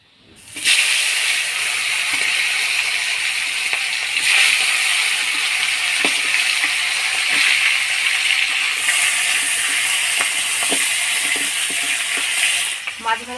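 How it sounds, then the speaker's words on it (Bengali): Fish sizzles steadily in hot oil in a wok for a Bengali fish-head mung dal meal, a loud, continuous broadband hiss with small crackles and pops throughout. "তেল গরম হয়ে গেছে, এবার মাছগুলো দিয়ে দিব।"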